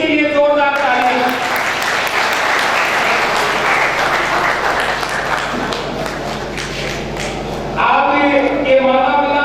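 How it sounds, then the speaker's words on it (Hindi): An audience at a community honours ceremony applauds girls called up to the stage, loud continuous clapping carried under an amplified speaking voice that opens and closes the stretch. "विद्या कशिश के लिए जोरदार तालियां"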